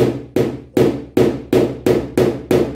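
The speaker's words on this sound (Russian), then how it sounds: "Работаем мы таким молотком металлическим." Eight evenly spaced, loud metallic hammer taps on a car body panel during paintless dent repair ring out in a steady rhythm, each with a short decaying clang.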